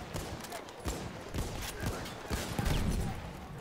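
Gunfire in Battlefield 1 during a chaotic fortress battle, several loud broadband shots and bursts scattered across the moment over a dense background of battle noise, with some speech mixed in.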